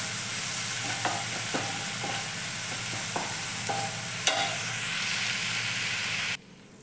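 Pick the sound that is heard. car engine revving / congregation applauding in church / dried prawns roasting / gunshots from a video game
dried prawns roasting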